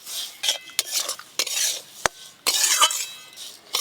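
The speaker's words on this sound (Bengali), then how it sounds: "চিনি দিয়ে সুজিগুলো আরও একটু লাল লাল করে ভাজবো" Semolina fried in ghee with sugar, stirred in a pan: a string of scraping and clinking spoon strokes against the metal, irregular and close, with a faint sizzle beneath and no voices.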